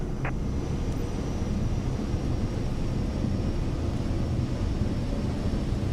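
In Microsoft Flight Simulator 2024, an airliner rolls down the runway on its takeoff run, giving off a steady, loud engine roar with a constant low rumble that neither builds nor fades.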